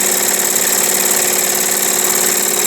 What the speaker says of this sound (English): This sure is a swell running engine.